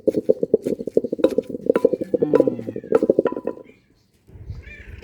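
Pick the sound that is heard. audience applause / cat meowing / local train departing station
cat meowing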